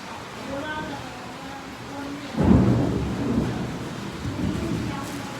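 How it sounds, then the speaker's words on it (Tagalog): A loud crack and rumble of thunder breaks in over steady, heavy rainfall, with the downpour continuing after the thunder fades. "Bigla na lang umulan."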